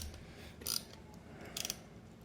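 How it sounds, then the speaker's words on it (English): A socket wrench, 11mm socket, loosens the float bowl on a Briggs 6.75 HP carburetor from a Craftsman 22-inch weed trimmer: two short, quiet ratcheting clicks, close by, against faint background noise. "Pull off the float bowl with an 11mm socket."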